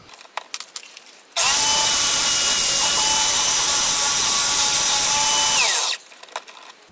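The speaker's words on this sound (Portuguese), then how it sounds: "eu vou usar a lixa grossa antes para a lateral que ainda tem rebarba eu consertar" Coarse sandpaper worked against the burred side edge of a handmade tool handle, a loud continuous abrasive rasp lasting about four and a half seconds, with quieter handling noises before and after.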